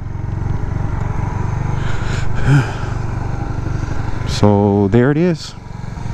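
A 2008 Suzuki GZ250 motorcycle sits parked and idling in an empty station, its low, steady engine rumble running throughout as someone briefly speaks over it.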